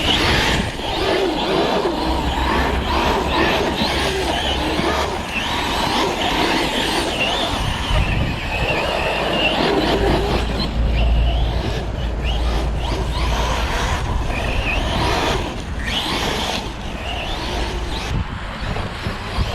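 A Kronos XTR remote-controlled car on a 6S battery, fitted with new parts, races at speed with a continuous whining motor and gravelly tyre noise that stays loud and close throughout, with no talking.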